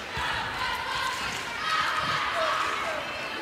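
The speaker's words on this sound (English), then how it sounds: "They are cheering on the sidelines, and they are happy to compete." A college volleyball crowd in an arena roars steadily throughout, a loud continuous wash of cheering with a swell partway through, under an announcer's voice.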